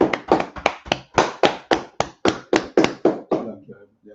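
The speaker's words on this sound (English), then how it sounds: "Clap it up." A group claps together in a short burst of about fifteen sharp, evenly spaced claps. It is loud and close and stands alone, with no talk over it, and a little faint scatter is heard as it ends.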